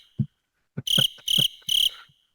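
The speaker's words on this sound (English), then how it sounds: "That's the sound of crickets." Three short bursts of bright cricket chirps, clean and close, with a few soft knocks between them.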